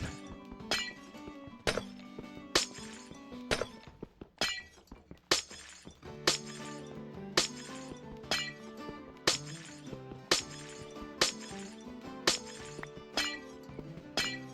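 Glass blocks in Minecraft break again and again in a steady rhythm, roughly a shattering crash every second with bright tinkling decay, interspersed with soft block-hitting clicks, no speech.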